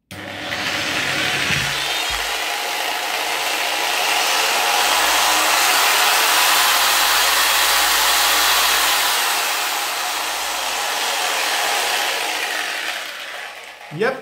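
A Parkside PSTK 800 D3 jigsaw, just reassembled, runs freely with a loud, steady high whine and motor hiss for about twelve seconds before switching off.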